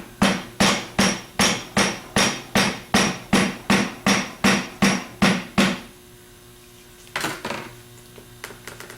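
About a dozen hard, evenly spaced knocks as a wooden hammer handle taps a rotor into a Denso alternator, then a pause and a couple of lighter taps.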